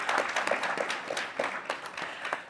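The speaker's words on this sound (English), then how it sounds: "Please give them a warm round of applause." Audience applause at a South African corporate directors' event, a steady dense patter of many hands clapping at once, fairly loud and sustained throughout with no voices over it.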